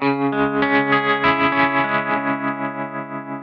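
Electric guitar chords throbbing through a Pigtronix Tremvelope envelope-modulated tremolo pedal, the volume pulsing quickly and evenly as the notes ring out and slowly fade.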